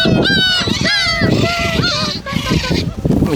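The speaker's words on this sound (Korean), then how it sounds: "갈매기 온다" Seagulls on a tidal mudflat at Dongmak Beach give loud, close, harsh honking calls in rapid overlapping bursts, with wind and a voice mixed in.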